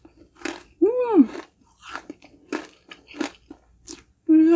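Crunchy honeycomb candy topping on a Red Ribbon Honey Crunch Cake being bitten and chewed up close, a few sharp crackling crunches in quick succession followed by a brief hum of voice.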